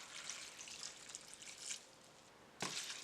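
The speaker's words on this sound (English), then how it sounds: "To this I'm going to cover it with water." Water is poured over a bowl of chopped vegetables for chow chow relish, a soft trickling splash that ebbs and swells, then gushes more strongly near the end.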